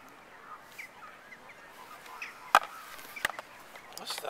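Ducks among other fowl at Caerphilly Castle give faint, scattered quacks and honks over a soft outdoor background, with a couple of sharper knocks in the middle.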